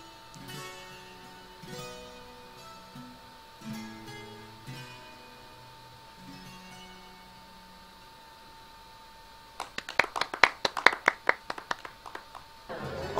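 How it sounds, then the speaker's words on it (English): Player character clapping for a bard in The Witcher video game: a quick burst of sharp hand claps, fairly loud, coming after quiet plucked music. "I'll give him some claps."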